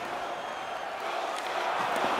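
An arena crowd in an NHL 20 hockey video game keeps up a steady wash of cheering and roaring, broad and loud, with commentary voices over it.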